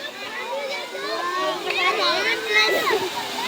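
Water rushes and splashes steadily at an outdoor school picnic spot near a bridge, a continuous wash heard close under children's excited voices talking throughout.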